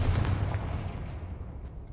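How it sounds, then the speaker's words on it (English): A fiery blasting spell explodes in a fantasy action game, one heavy boom at the start that rumbles and fades away over two seconds, with no voices. "Confringo!"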